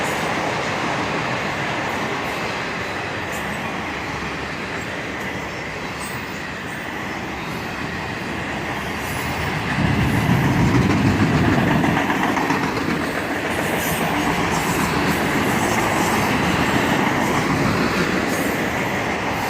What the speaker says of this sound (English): And now we have a bunch of flat cars loaded with automobile frames.